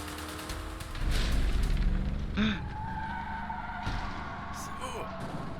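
A car in the video game A Way Out races at full throttle, a loud, steady engine roar with brief skidding and squeals near the start, under excited shouting.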